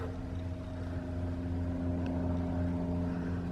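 A low, steady engine drone from a helicopter or plane hums continuously in the distance overhead at Blue Spring State Park, Florida, with no voices.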